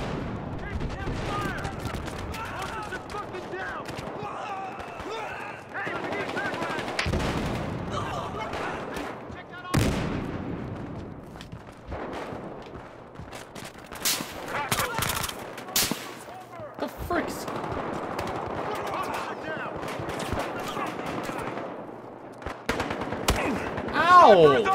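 Dense exchanges of automatic gunfire fill an online team deathmatch in Battlefield Hardline on the Derailed map, with sharp bursts and single shots coming from both near and far and a player talking throughout.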